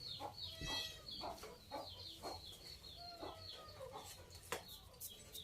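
Chickens clucking and crowing near a forest edge in rural Thailand as they are called over, with repeated short clucks and a few sharp calls at moderate distance, no talk.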